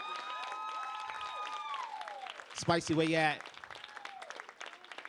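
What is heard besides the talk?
audience applause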